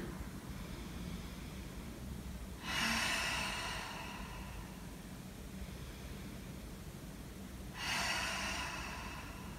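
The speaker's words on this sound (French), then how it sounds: "et expiration par la bouche. J'inspire, j'expire. J'inspire." Two slow, soft exhalations through the mouth during a vinyasa yoga session, each a breathy rush several seconds apart over quiet room hiss, with no talking.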